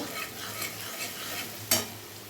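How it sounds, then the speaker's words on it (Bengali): Onion and capsicum hit hot oil already holding garlic and green chilli, sizzling steadily in a pan while a utensil stirs them; one sharper scrape or clink near the end stands out over the continuous frying hiss. "এ দেখো পেঁয়াজ আর ক্যাপসিকামটা দিয়ে দিলাম।"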